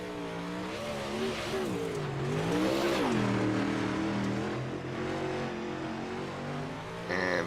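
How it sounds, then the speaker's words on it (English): A late model race car engine roars steadily on the Lernerville Speedway oval during a UMPS National Late Model Series event, its loud, rising and falling engine pitch sounding close and continuous throughout, with no talk. "I believe that's the 5 of Lucas they just sent out onto the racetrack"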